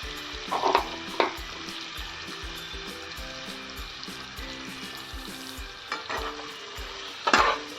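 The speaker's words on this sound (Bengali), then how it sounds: "চিংড়ি মাছগুলোকে হালকা করে একবার ফ্রাই করে নেব।" Prawns shallow-frying in hot oil, a constant crackling sizzle with occasional louder bursts as they are stirred and turned in the pan, close up with no talking.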